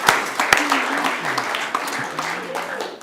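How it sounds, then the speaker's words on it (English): Congregational audience applause at the close of a worship gathering after singing, a steady close wash of clapping with a few sharp claps standing out and faint voices murmuring underneath. "Give yourself a round of applause."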